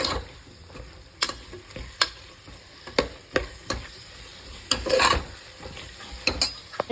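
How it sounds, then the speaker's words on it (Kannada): Tomatoes frying in a pan with turmeric and salt, a continuous sizzle broken by repeated sharp scraping stirs about once a second, close and unaccompanied by speech. "ಈಗ ಟೊಮೊಟೊ ಹಾಕ್ತೀನಿ. ಟೊಮೊಟೊನ ಚೆನ್ನಾಗಿ ಫ್ರೈ ಆಗಲಿ."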